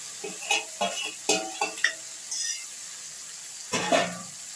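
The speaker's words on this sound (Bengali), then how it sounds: "এবার ফুলকপি আলু একসঙ্গেই দিয়ে দিলেন" Cauliflower and potato pieces tumble into oily spice paste in a pan, giving a run of short stirring scrapes and light sizzles, then a louder burst of frying near the end, with quiet gaps between.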